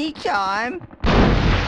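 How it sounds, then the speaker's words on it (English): A bazooka in the PS1 game Hogs of War fires and explodes on the target in a loud, sudden blast of noise that fills the last part of the clip, right after a short spoken word. "Use your bazooka to destroy the last 2 targets."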